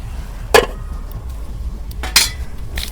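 A metal lid set onto a cooking pot of chicken, two short clanks about a second and a half apart, close and clear over a quiet background.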